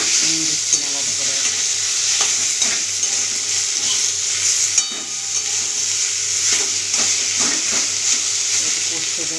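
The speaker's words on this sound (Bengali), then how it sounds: "একটু কষতে দেবো কিছুক্ষণ। তো এটা ভাজতেই দিয়েছি।" Kochu shak cooking with hilsa head and prawns sizzles steadily in a pan, with repeated scraping stir strokes close by and no talk.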